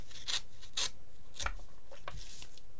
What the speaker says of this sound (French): On va essayer de pas abîmer l'enveloppe quand même.